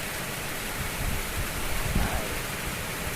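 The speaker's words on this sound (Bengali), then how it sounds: "বৃষ্টি উপভোগ করার মতো সৌন্দর্য আর কিছুতে নাই" Rain falls in a steady, even hiss for a few seconds, a soft, continuous wash of drops with no voices over it.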